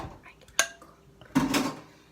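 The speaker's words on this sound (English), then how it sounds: "This is weird to stir." Utensil scraping and clinking against a mixing bowl as a home-cooked mixture is stirred, two short bursts, the second longer and louder, close and otherwise quiet.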